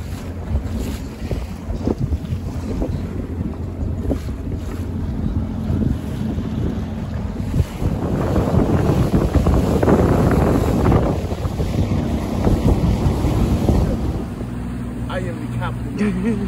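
A small boat runs across open water off San Juan, Puerto Rico, with heavy wind buffeting and a steady wash of waves and hull noise that swells midway, while people talk over it.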